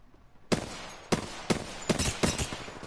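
Gunfire in the battle royale game Apex Legends: loud, sharp shots and short bursts fire at uneven intervals after a half-second lull, some strikes closely clustered, close and dominant with no talk over them.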